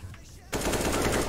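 A sudden burst of rapid video game gunfire cuts in after a quieter stretch, loud and dense with a fast repeating rhythm that continues to the end.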